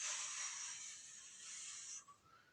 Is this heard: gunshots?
no